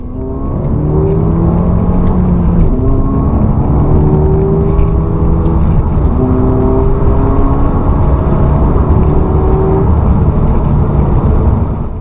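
Peugeot RCZ THP 200 engine revs and accelerates through several gear changes, each pull rising in pitch before dropping back, loud and close for the whole stretch with a sporty intake tone and no talking.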